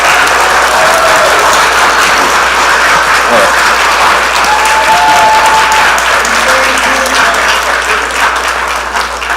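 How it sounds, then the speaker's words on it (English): A church congregation at an annual meeting breaks into loud, sustained applause, a dense wall of clapping that fills the room, while a voice speaks briefly over it. "So give them a round of applause."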